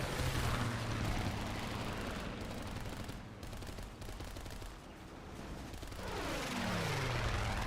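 A biplane in the WarChonk combat game, a dense roaring engine drone with gunfire-like crackle, loud and continuous, rising and falling as it passes, with no speech.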